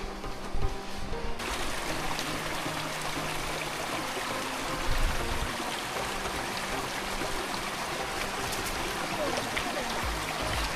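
A creek flows beside a hiking trail on New Zealand's Te Araroa route, its steady rushing wash filling the background at moderate level with a few faint knocks and footsteps over it.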